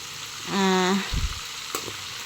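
Chicken adobo fries in a pan with a little oil and gets turned over: a steady close sizzle, a brief squeaky scrape, then soft clunks of the utensil.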